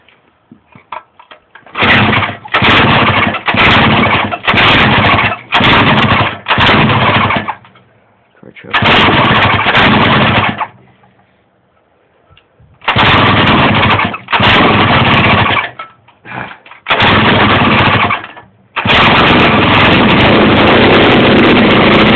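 A troublesome tiller engine starts and surges: loud, harsh, close bursts of running engine cut in and out repeatedly for a few seconds each, separated by near-silent gaps, before settling into a longer run.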